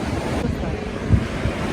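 Sea waves wash onto Arcadia beach in Odessa at the end of the season: a continuous rushing surf, with buffeting wind noise on the microphone and soft swells of water breaking nearby.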